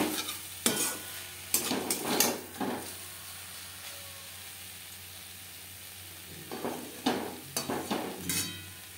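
Fried dal bori goes into a pan and gets stirred through, giving bursts of scraping and clattering in two clusters with a faint sizzle between them, fairly close and quiet.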